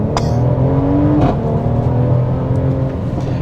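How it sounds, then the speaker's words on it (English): A 2022 Mercedes-AMG GLC 43 SUV revs up sharply in Sport Plus mode, its exhaust roaring close by, then settles into a throaty drone that slowly fades a little. "In Sport Plus mode, it does open up the baffle, foot on the brake and accelerator."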